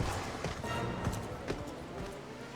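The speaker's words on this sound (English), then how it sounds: "The horse." Horse hooves clip-clopping in Final Fantasy XIV, a quick run of close, fairly soft hoof beats over a busy game background with some speech-like sound.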